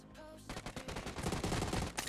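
Rapid bursts of gunfire in a mobile shooting game team match, dense automatic shots starting after a brief quiet lead-in and continuing loud and steady to the end.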